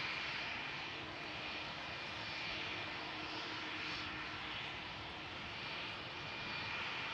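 A British Airways Airbus A321 lines up for departure at Amsterdam Schiphol Airport, its jet engines giving a faint, steady, distant broadband roar with no distinct changes.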